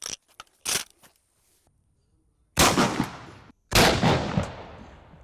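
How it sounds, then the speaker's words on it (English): A shotgun slug fired into interior walls: one sharp blast follows faint earlier knocks and clicks, and a second loud report after a short pause, each with a long rumbling decay. "So we're gonna shoot a slug first."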